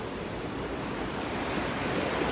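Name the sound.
river water flowing near a temple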